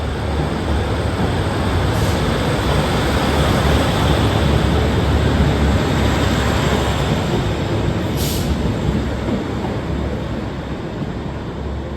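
A Northern class 156 diesel unit pulls out of a station on the Durham coast line bound for Nunthorpe, its engine and wheel roar loud, broad and steady, with a couple of brief hissing air bursts.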